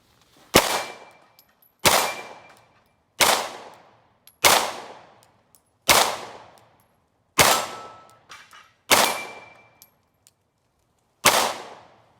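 Eight sharp pistol shots from a Glock 43 ring out against steel pepper poppers at a shooting range, each crack followed by a short metallic clang, spaced roughly a second or more apart with no talking.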